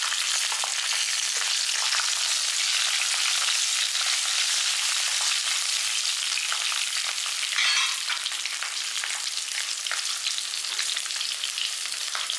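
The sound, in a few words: pirandai (adamant creeper) being sautéed in oil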